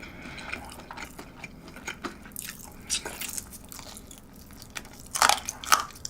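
Crunchy bites into a crispy fried McDonald's McWing chicken wing, several crackling crunches close to the ear, growing louder and sharper toward the end amid chewing.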